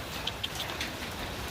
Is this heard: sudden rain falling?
yes